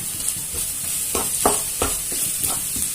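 Chopped ginger and onion fry in oil in a pan, a steady sizzle with several sharp scraping strokes as a spoon stirs them, close and fairly loud with no talking.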